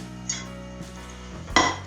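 Two identical saucepans being handled in a home kitchen while making a tomato sauce, with a few light metallic clinks and knocks, the last one brighter and louder, over a low steady hum.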